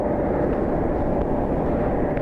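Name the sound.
airliner at airport, Boeing 737 taxiing to gate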